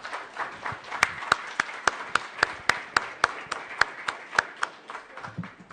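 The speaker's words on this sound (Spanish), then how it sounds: "Les pido un aplauso, por favor, para nuestros participantes." An audience at a panel discussion on madness claps for the participants, sparse distinct claps in a fairly steady rhythm that stay soft overall.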